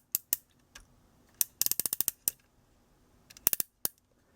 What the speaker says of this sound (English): It's got a really nice ratcheting hip.